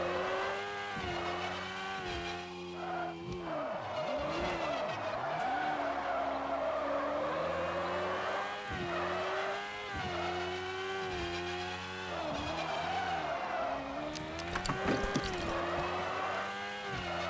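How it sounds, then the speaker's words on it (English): A trophy truck drifts with its tires skidding and squealing continuously, the engine revving and rising and falling in pitch throughout, loud and close with no talking. "Still got a little bit of drift left in it."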